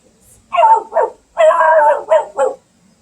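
A person's voice imitates a dog barking, giving five short ruff-like barks in two quick pairs and a longer one, loud and close, with no other sound around them.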